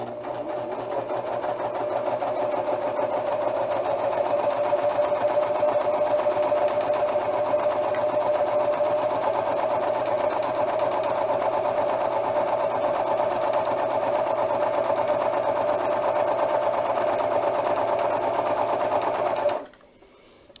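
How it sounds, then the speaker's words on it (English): A serger sews a rolled hem over beading wire in one long, unbroken run, a close, steady motor whir with rapid stitching rhythm that cuts off abruptly near the end. "keep rolled hemming over or with my beading wire here"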